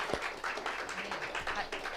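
A congregation claps steadily at an Anglican Easter service in Jeju, celebrating the first anniversary of the new church's blessing. The applause is a dense, even patter that lasts about two seconds, with faint voices mixed in.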